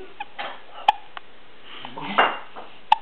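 A girl hiccups a few times, short sharp catches spread across a few seconds with soft clinks and small noises around them, near the microphone and fairly quiet.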